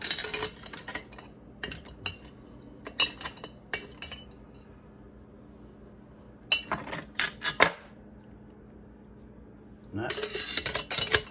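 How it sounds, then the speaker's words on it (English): Metal tongs clink and rattle in bursts against an ultrasonic cleaner tank and its contents, with quiet stretches between clusters of sharp metallic contacts. "Okay, I got some tongs. That's deep down in there"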